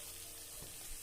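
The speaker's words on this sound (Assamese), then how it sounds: "এতিয়া ইয়াত মই গৰম পানী দি দিম, সামান্য গৰম পানী" Hot water poured into a pan of frying pointed gourd (potol) masala gives a steady close sizzle with a soft liquid hiss and brief bubbling bursts, no talking.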